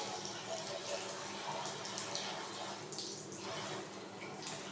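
Water runs steadily from a tap in the game Cinema Simulator 2025, a continuous hissing splash with small drips, fairly close and moderately loud.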